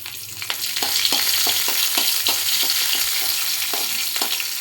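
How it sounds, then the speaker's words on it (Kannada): Dried red chilies fry in hot oil for a spiced avalakki bisi bele bath, giving a steady close sizzle with a scatter of soft scraping stir strokes throughout. "ನಂತರ ಸ್ವಲ್ಪ ಡಲ್ಮೆಣ್ಸಿನ ಸ್ವಲ್ಪ ಹುರಿಬೇಕು ಸ್ವಲ್ಪ ಹುರಿ"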